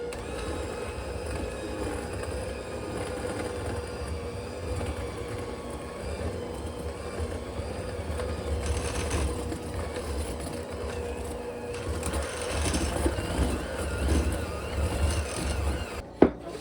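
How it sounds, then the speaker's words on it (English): A KitchenAid hand mixer churns cookie dough, its motor giving a steady low rumbling whir with a slight labouring grind, continuous and close throughout, ending with a sharp knock. "This hand mixer, by the way, I've had for literally like over 10 years now."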